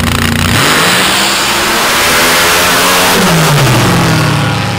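A dirt drag racing car engine at an ultra-quick dirt drags event, very loud and close, revving hard as it accelerates with rising pitch sweeps and a roaring, gritty exhaust note throughout.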